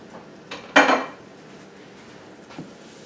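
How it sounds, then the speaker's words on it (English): Two pounds of ground beef, roughly 80-20, gets broken up in a pan sprayed with non-stick spray: one sharp utensil scrape and clatter stands out, with a few lighter taps around it. "we're simply just going to chop that up and get it started browning for right now"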